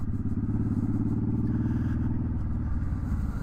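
A Suzuki Boulevard M50 motorcycle crawls along at low speed, its engine thumping in a deep, steady, loud idle-like rumble with slight pitch changes as the throttle shifts.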